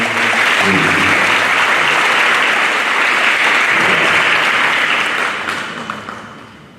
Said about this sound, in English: One more round of applause for our Best and Brightest.